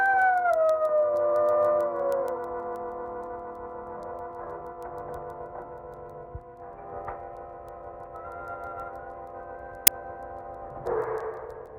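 A wolf howls in a 1950s monster movie: a long, wavering howl that slides downward and fades, followed by sustained eerie tonal music and a sharp click near the end.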